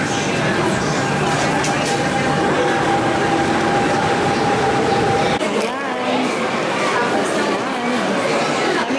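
Train ride at Disneyland Paris, a continuous rolling rumble and mechanical whine from the carriage heard from onboard, with passengers chatting throughout.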